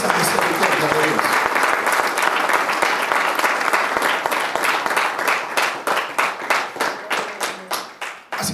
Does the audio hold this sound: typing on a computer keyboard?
no